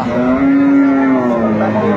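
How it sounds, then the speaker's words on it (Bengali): A cow with her calf at a rural cattle market lowing in one long, loud, close moo that holds steady for about two seconds. "গাভী বাছুর বেশ সুন্দর"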